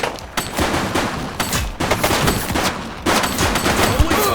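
A suspect firing a gun in the police video game The Precinct, with repeated loud bursts of gunfire close by, broken by brief lulls across the stretch.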